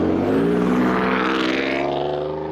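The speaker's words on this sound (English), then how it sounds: "Ford F-150." A Ford F-150 pickup truck drives past close by, its engine a loud, steady hum with a rising whine that fades slightly as it moves off.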